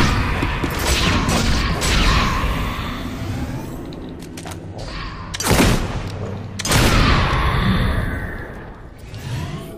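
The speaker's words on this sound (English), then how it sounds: "Bang! Went the gun." Gunfire in the video game Fable II comes as several loud booming shots and crashing blasts, with heavy bursts separated by brief lulls, all without speech.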